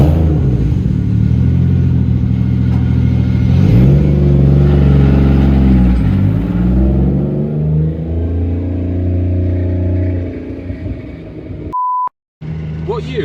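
A 1999 Nissan Silvia S14 with a boosted 1JZ engine drives along, its steady engine drone rising and falling through revs up close from inside the car, with a short beep near the end.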